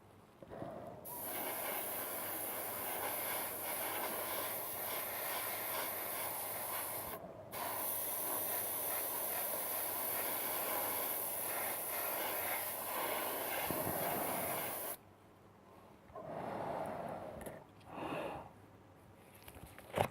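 Airbrush or spray can laying a medium grey coat onto a 1/35 scale Trumpeter Faun tank transporter model: a steady, loud broadband hiss held for about fourteen seconds with one brief pause, then stopping into quieter handling noises.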